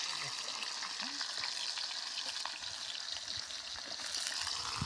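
Onions frying in a pan give a steady, close crackling sizzle that runs throughout, with light stirring taps and no talking.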